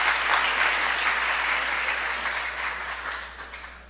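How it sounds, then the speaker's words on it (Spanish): A conference audience at an education technology congress applauds, a full room of clapping that starts strong and gradually thins and fades toward the end, with no speech over it. "Las dejamos con ellas con fuertes aplausos."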